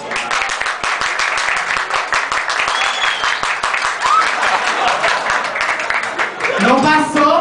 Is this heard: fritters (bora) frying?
no